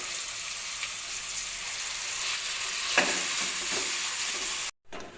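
Olives (jalpai) fry in hot oil in a pan, hissing and sizzling steadily close up, while a spoon stirs them with a few scraping knocks. Near the end the sound cuts out briefly, then resumes.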